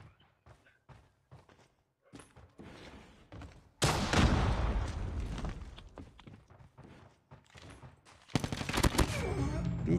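Gunfire in the Call of Duty Mobile multiplayer video game: a few early thumps, then a long loud burst of rapid automatic fire from about four seconds, another dense burst near the end, with scattered faint footsteps.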